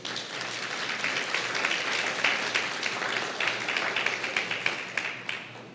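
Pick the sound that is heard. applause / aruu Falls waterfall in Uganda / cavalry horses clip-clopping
applause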